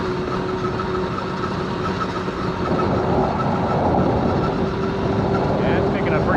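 A 1979 Honda Express moped engine revs steadily as the moped picks up speed, a continuous buzzing drone with a faint whine that grows slightly louder toward the end, with someone talking over it.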